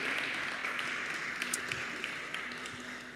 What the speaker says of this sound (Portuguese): vamos aplaudir bem forte o nosso Senhor Jesus